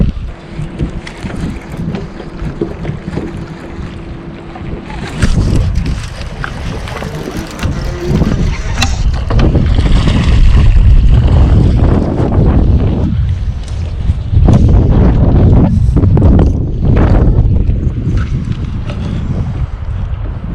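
Strong wind buffeting a microphone on a bass fishing boat during a tournament on Toledo Bend, loud continuous rumbling gusts with water and hull noise, no speech.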